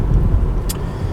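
A diesel car passes nearby, giving a short loud low engine rumble with a brief hiss partway through.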